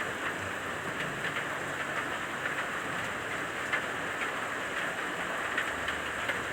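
Light drizzle falls outdoors in a backyard, a steady soft hiss of rain with scattered faint drop ticks and no talking.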